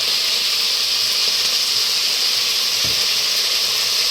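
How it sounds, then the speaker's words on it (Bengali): Leaves fry in a pan in a village kitchen, a continuous loud sizzling hiss that holds steady throughout with no voices. "পাতা ভাজা হচ্ছে, ওই জন্য একটা শব্দ হচ্ছে"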